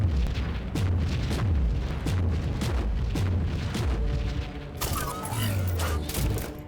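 A cannon fires repeatedly in the action RPG Warhammer 40K Inquisitor, each shot a heavy boom set in a loud, chaotic battle of explosions and gunfire, with a sharper, brighter blast near the end.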